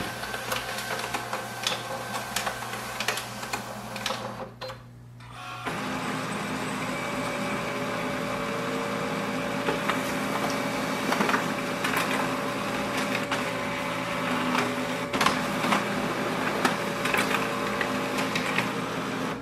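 A Brother MFC L2700dw laser printer makes a two-sided copy, with mechanical whirring, then a short pause and a steady hum with rhythmic clicks and paper-feed shuffles.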